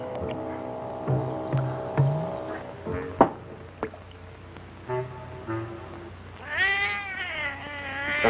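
A cat meows repeatedly, several drawn-out, wavering calls at irregular intervals, close and fairly loud, with some bumps and clatter between them and a longer rising-falling yowl near the end.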